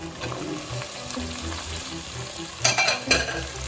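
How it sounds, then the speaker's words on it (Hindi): Chicken pieces frying with browned garlic in a pan give a steady close sizzle, with louder stirring scrapes and crackling bursts near the end and no one talking. "चिकन को अच्छे से फ्राई कर लेंगे"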